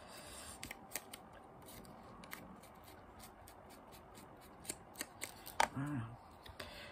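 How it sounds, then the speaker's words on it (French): Scissors snip through a paper leaf in a run of quick, crisp cuts that grow louder and denser toward the end, with a voice briefly speaking near the close. "je vais la couper"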